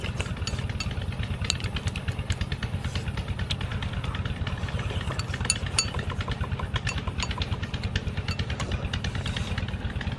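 A small engine chugs close by in a rapid, steady putter with metallic clatter on top, running continuously without a break.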